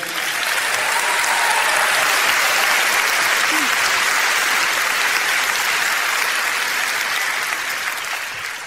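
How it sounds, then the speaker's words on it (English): A large crowd at a live talk event applauds an 8-year-old boy, sustained loud clapping that swells and holds throughout before easing slightly at the end. "Give this guy a round of applause, everybody."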